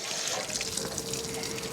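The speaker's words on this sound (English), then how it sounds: "the water is starting, so we'll let it get pretty solid when it stops sputtering" Water sputters and runs steadily from an RV faucet, a continuous mid-level hiss and trickle with no talking over it.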